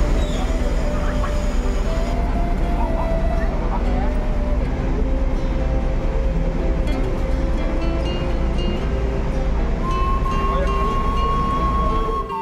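Passenger train departing a station in Indonesia, a steady low rumble of rolling stock with a couple of sustained whistle-like tones, people chatting over it throughout.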